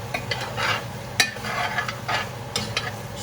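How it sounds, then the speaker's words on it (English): Red beans and sausage get stirred in a pot, with a spoon scraping and swishing in several strokes over a soft sizzle, close and moderately loud, with no talking. "we give it a good stir"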